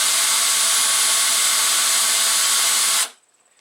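A power drill spins an engine valve against its seat during a 660 Rhino top-end rebuild, a steady loud whir that cuts off abruptly near the end.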